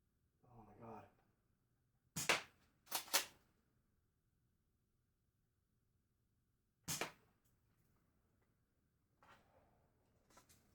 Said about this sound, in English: Okay, that's the shotgun.